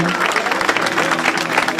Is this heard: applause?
yes